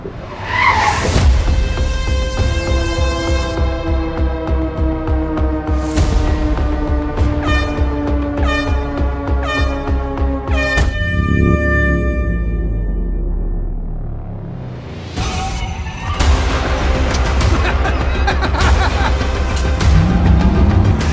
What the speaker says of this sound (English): I guess we're gonna have to race something with a little more horsepower to beat this Cybertruck